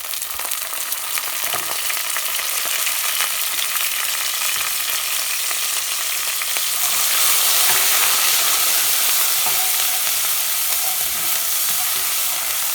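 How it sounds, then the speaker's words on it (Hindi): Steady loud sizzling and hissing as garlic-ginger paste fries with onions in a hot pan, with occasional soft stirring scrapes; no voices. "अब मैं इसमें डाल रही हूँ 2 चमचे लहसुन अदरक का पेस्ट"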